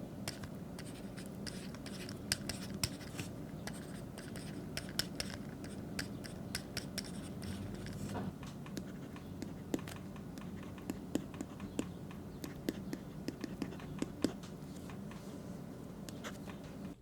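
Pens scratch across e-ink tablet screens, Supernote Manta against Viwoods AI Paper, the Supernote pen ceramic-tipped: close, quiet, continuous scritching strokes with many small taps and ticks, no talking.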